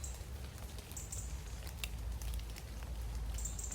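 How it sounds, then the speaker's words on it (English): Raindrops drip from tree leaves outdoors, scattered soft taps and patters over a steady low wash of ambient noise, with a few brighter high hisses, no voices. "just listen to the raindrops falling from the leaves while they're still on my trees"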